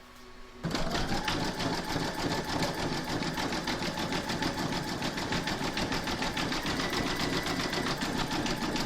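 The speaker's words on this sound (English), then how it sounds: "you're going to stitch round number 11, and that's going to do the satin stitching around here." An embroidery machine satin stitches the outline of an apple on an in-the-hoop coaster, starting abruptly and then running with a steady, fast, even mechanical chatter that stays close and loud throughout, with no voices.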